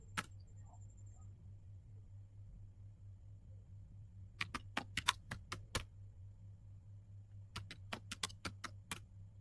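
Keystrokes on a computer keyboard while entering Cisco switch commands, short bursts of sharp clicks in two clusters over a steady low hum, with a quiet gap between.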